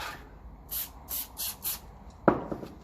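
A WD-40 aerosol can sprays in several short hissing bursts in a shed, about four quick puffs close by, followed by a louder clunk or rattle, with no talk.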